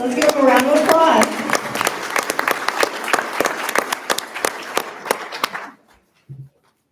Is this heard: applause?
yes